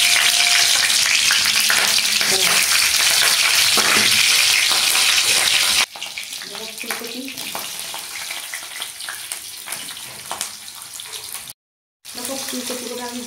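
Cumin seeds and green chili hit hot oil in a pan, giving an intense, hissing sizzle that later settles into a softer crackle with stirring noises and a brief gap of silence.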